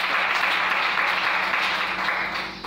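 A church congregation applauds to acclaim the Lord, a dense, sustained wave of clapping filling the room, loud and close, fading slightly at the end.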